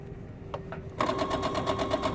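A sewing machine straight-stitching around a welder cap crown, a couple of faint clicks then a steady fast mechanical whir with a regular rapid chatter of the needle, close and fairly quiet.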